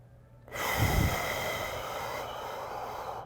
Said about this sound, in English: try to breathe into your upper back from here.